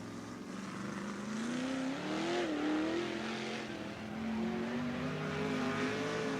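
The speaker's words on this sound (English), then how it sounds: "New group of cars rolling on the racetrack now" USAC National sprint cars roar around the Knoxville Raceway dirt oval, a continuous loud engine drone rising and falling in pitch as the cars accelerate and lap, with crowd and track ambience underneath.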